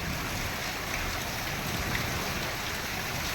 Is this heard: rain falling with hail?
yes